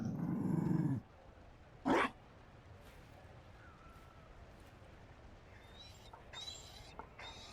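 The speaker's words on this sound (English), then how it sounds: "You found a dog?" A Mabari war dog in Dragon Age Inquisition growls in a short low rumble, followed a second later by a brief sharp yelp, amid quiet ambient game sounds.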